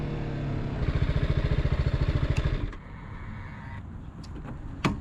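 A BMW G 310 R motorcycle runs close by with a rapid, pulsing single-cylinder putter that grows louder, then cuts away to quieter background noise with a few sharp knocks.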